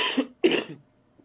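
Two quick, close coughs in a row, the second slightly stronger, followed by quiet.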